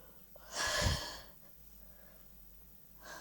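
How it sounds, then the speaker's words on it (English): A person breathes out once in a heavy, sighing exhale, close and fairly quiet, followed by near silence and the faint start of another breath. "If you hear the breathing of me"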